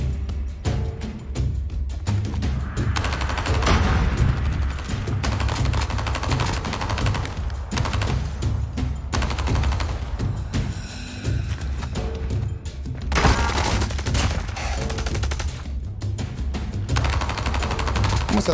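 Dingo machine gun in Call of Duty Mobile, firing in long rapid bursts, loud and close, with short pauses between volleys and game effects mixed in.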